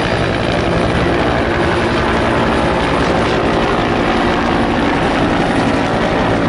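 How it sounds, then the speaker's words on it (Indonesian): A large helicopter roars loudly and steadily throughout, its rotor chop and engine drone filling the scene with no pauses. "lihat ada helikopter besar"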